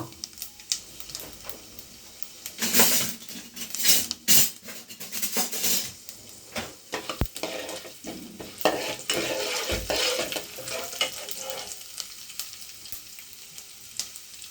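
Cumin seeds and urad dal frying in hot oil, with a bright crackling sizzle that swells in sharp bursts early on, mixed with close stirring and a metal utensil clinking against the pan.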